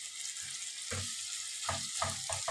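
Green beans and meat sautéing in a pot for an Egyptian-style dish, with a soft, steady sizzle and a few brief clatters of stirring.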